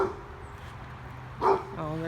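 A dog in a yard gives one sharp, close bark at workers outside, standing out briefly against quiet background while a person talks.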